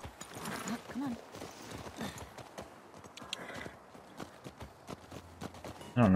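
Rapid hoofbeats clatter along steadily, a galloping horse in the video game The Last of Us Part II, mixed with game sounds and a voice speaking over them.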